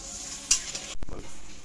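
Warm water hits a spice paste frying in a pan for a bitter gourd and coconut curry, giving a sudden hiss and splash after a quiet, low sizzle with a light utensil scrape.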